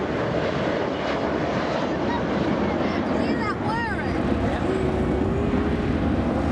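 Boeing 757 of the Royal New Zealand Air Force passing low at an anniversary airshow with landing gear down and flaps extended, a loud continuous jet roar mixed with wind noise, with faint whining tones shifting as it goes by.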